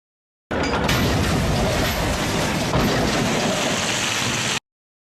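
A train of heavy coal cars passes in a Thomas the Tank Engine DVD segment, a dense rushing rattle with clickety-clack texture lasting about four seconds before cutting off abruptly.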